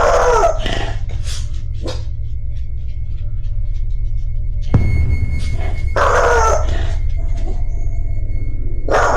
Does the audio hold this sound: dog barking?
yes